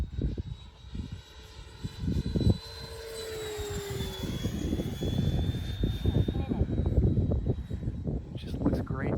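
A Freewing T-33 model jet makes banked passes overhead, its turbine whine sweeping in pitch as it flies by at moderate distance, with a person talking throughout.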